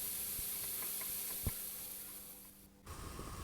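Potato pieces fry in hot oil in a pan, giving a steady close sizzle with a few soft clicks and pops. The sizzle briefly dips near the end, then picks back up.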